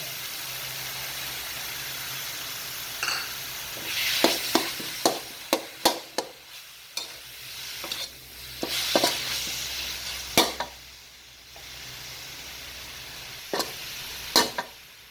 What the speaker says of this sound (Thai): หลังจากนั้นเราก็จะใส่ หมูตับนะครับลงไป